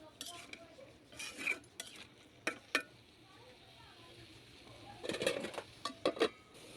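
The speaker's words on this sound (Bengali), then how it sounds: "দিয়ে ভালোভাবে নেড়ে চেড়ে মিশিয়ে নিব" A metal spatula scrapes and clinks in a pan while long beans are stirred with Hilsa fish head and spice, scattered sharp taps and bursts of scraping, close but quiet, with faint sizzling and some speech.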